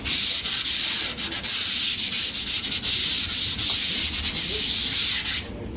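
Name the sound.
sanding a primed concrete board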